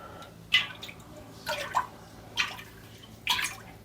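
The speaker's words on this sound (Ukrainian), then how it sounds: "розмішали і вливаємо молоко" Milk is poured into a bowl for homemade curd cheese, heard as a few short soft splashing and trickling bursts close by against quiet background, with no voices.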